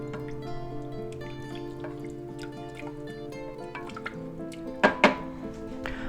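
Warm milk is stirred into a flour-thickened Mornay sauce in a pan, giving soft liquid sloshing and scraping over a steady stovetop hum, with two sharper utensil knocks against the pan near the end.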